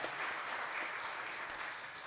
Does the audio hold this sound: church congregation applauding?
yes